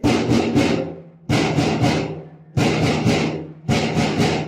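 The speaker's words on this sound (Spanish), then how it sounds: "El Manguaré suena así." Four groups of deep, resonant strikes on a manguaré wooden slit drum, each a quick cluster of beats that rings out and fades before the next.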